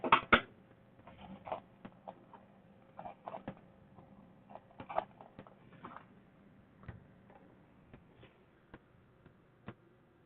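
An embroidery machine stitching an in-the-hoop plush, giving faint irregular ticks and mechanical taps with small clusters of clicks, close and quiet against near silence.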